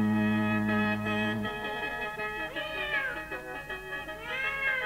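A cat meows in a long, wavering cry, with a second drawn-out meow near the end, set against a steady tonal backing from a Thai lam folk-song performance.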